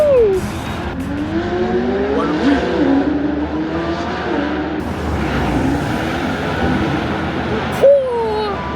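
Formula 1 race cars at the Monaco Grand Prix roar past continuously with rising and falling engine whines, heard from the trackside over crowd noise and people talking nearby.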